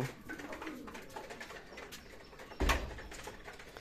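Pigeons coo steadily in a soft, murmuring cluster close by, with a brief louder thump or rattle near the end, in a rural yard where a young Tiger breed chicken is also kept.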